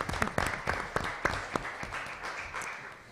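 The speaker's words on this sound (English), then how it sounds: "Give them a round of applause." An audience at a school board meeting applauds school staff with moderate, scattered clapping. Individual claps stand out early, then the sound thins and tapers off.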